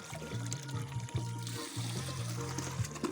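Water pours with a faint trickling splash, low and fairly quiet, alongside a steady low hum.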